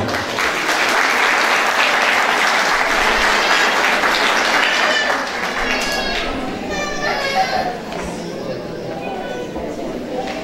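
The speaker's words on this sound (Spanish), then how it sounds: "Un aplauso para ella." An audience at a Women's Day celebration in Sutatausa applauds an honoree, dense clapping for about five seconds that then thins out while children's voices and chatter carry on.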